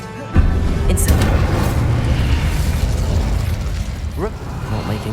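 A loud blast from the Incendio fire spell in Hogwarts Legacy erupts suddenly and holds as a dense roaring burst, with game sounds and a short rising whoosh near the end.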